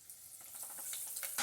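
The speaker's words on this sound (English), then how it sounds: "Look at that fry action." Battered morel mushrooms in keto batter deep fry in hot oil with a bright, close crackling sizzle that swells slightly over a moment and is heard without talking.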